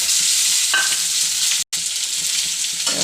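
Boiled jackfruit seeds hit hot oil with frying onion and coconut pieces and are stirred, giving a loud, continuous sizzle with scraping stirs and one brief silent gap.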